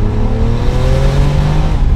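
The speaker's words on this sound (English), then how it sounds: "When the turbo kicks in, things get pretty wild in here." A RUF Porsche 993 Turbo with just over 500 horsepower roars loudly from inside the cabin, its engine revving steadily upward as the turbo builds boost, a sustained close-up drone with no voices.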